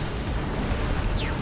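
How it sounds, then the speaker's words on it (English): A plasma cannon shot detonates in a Dawn of War 2 Elite Mod 2v2 battle, a dense, rumbling explosion filling the mix with a brief descending whistle near the end. "Nice plasma cannon shot."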